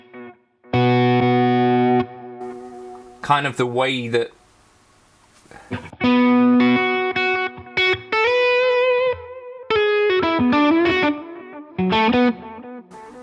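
Electric guitar with Telecaster twang, run through a Fractal unit with stereo tape delay: bright picked phrases and held notes with repeats trailing off, broken by short spoken comments between passages.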